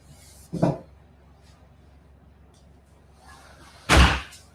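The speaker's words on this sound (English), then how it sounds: "Let me close this door." A door swings shut with a single loud slam near the end, after an earlier softer thump, against a quiet indoor background.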